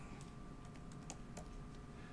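Quiet keystrokes on a computer keyboard while code is entered in a live Clojurescript coding session, a steady patter of light clicks with a few sharper taps over a low room hum.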